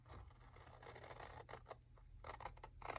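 Scissors snip and cut through paper for a coffee-dyed craft project, giving repeated crisp slicing and rustling strokes close by over a low steady hum, with no talking.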